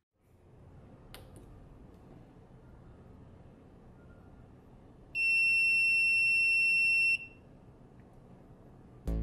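A shrill electronic buzzer wired to a Raspberry Pi sounds once for about two seconds over quiet background hum, then stops abruptly.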